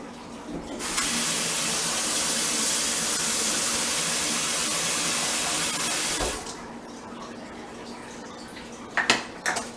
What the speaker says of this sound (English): we're going to take a third of a cup of water, and we're just going to put it in a pan